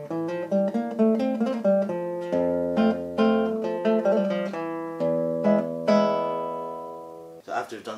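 Classical guitar plays a passage from Tárrega's Malagueña, with rapid plucked notes over bass, repeated arpeggiated figures and sustained ringing chords, clear and close, with a brief muffled noise at the end.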